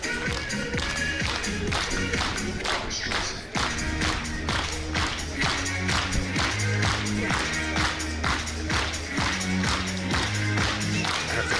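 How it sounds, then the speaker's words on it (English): A stadium crowd at an athletics meeting in St. Pölten, Austria, claps in a steady rhythm for a long jumper, a dense, even beat of many hands heard up close and continuing throughout. "Crowd getting behind her."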